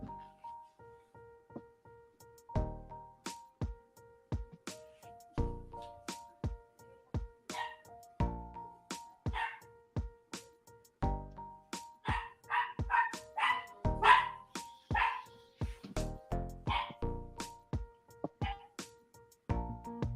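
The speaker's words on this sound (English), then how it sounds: "Do you have little yappy dogs too?" Small yappy dogs bark over and over in sharp, uneven bursts, the yips closely spaced and growing busier toward the end, set against a faint steady tone.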